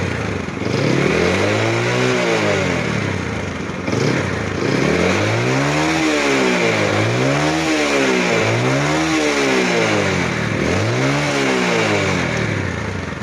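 Yamaha Jupiter Z motorcycle engine revved repeatedly from idle, rising and falling pitch sweeps in several rhythmic throttle blips over a steady near idle, loud and close with no talking.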